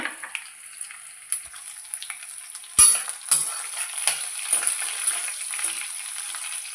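Coriander seeds and dried red chillies hit hot oil for a gongura chutney, a sudden sharp burst of sizzling that settles into a steady, close crackle with light stirring.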